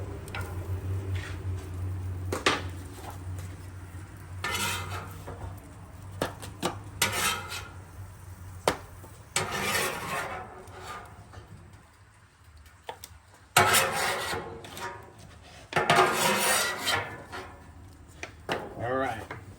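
Metal spatula scraping and clanking across a Blackstone flat-top griddle as scrambled eggs are pulled off, a series of scattered scrapes and taps with a low steady hum beneath and some talk between.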